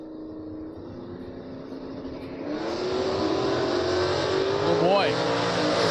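A drag racing car idles at the start line of a bracket race and then launches, its engine rising into a loud, sustained roar. An announcer talks over the engine.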